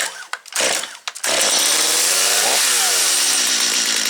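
A Stihl MS250 chainsaw is started outdoors in cold weather, with a couple of brief bursts before it catches and then runs loud and steady at close range, its pitch shifting as the throttle changes.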